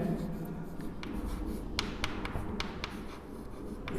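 Chalk or marker writing on a board during a physics lecture on gravitation: a series of quick, sharp taps and scratchy strokes close by, irregular in rhythm, over a low room hum with faint background speech.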